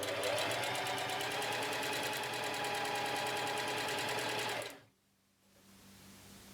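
A sewing machine stitches fabric for a lolita dress in a fast, even mechanical whir of needle strokes, loud and close, then stops abruptly, leaving a quiet low hum.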